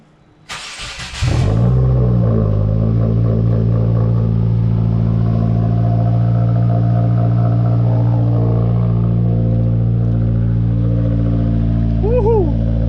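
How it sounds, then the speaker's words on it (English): A Subaru WRX engine cranks and fires up with a sharp burst, then settles into a loud, steady, rumbling idle close by; someone whoops near the end. "Might as well start the car up."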